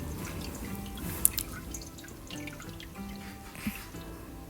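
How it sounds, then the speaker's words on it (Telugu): Water draining from soaked poha in a strainer, a soft steady trickle and dripping with a couple of faint clicks, close and quiet, no speech. "నానాక స్ట్రెయిన్లో మనము వాటర్ అంతా తీసేసుకోవాలి"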